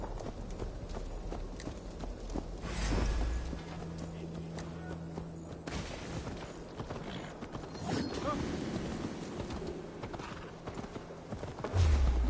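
Horse hooves clip-clop steadily at a walking pace in the video game Assassin's Creed Valhalla, with occasional mechanical clatter mixed in.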